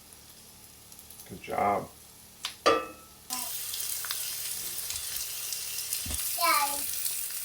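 Food sizzles steadily in a frying pan as it is stirred in a cabin kitchen, a soft, even hiss that starts partway through, with people talking and a few clinks.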